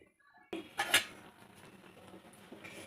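Ragi mudda (finger millet dough) being stirred and mashed in a pot with a ladle, village style: silence, then a sudden clatter of utensil against pot with a couple of sharp knocks, followed by steady soft scraping.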